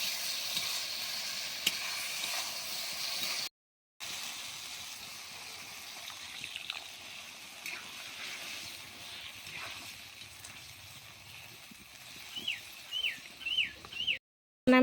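Taro leaves (kochu shak) sizzle and bubble in a pan as a little water is added. The frying hiss is steady at first, then grows softer, with stirring clicks and sputtering pops toward the end.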